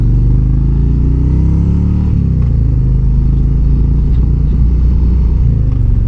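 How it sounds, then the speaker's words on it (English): A 2025 Harley-Davidson Road Glide motorcycle engine rumbles loudly and continuously close by, its pitch dropping as it downshifts hard with engine braking, with a steady low drone throughout. "I'm wondering why she's downshifting so hard."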